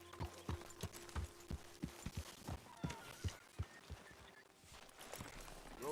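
Horse hooves clip-clop at a walking pace in the Red Dead Redemption 2 video game, about a dozen soft rhythmic thuds that slow and stop, faint and close, with low background ambience.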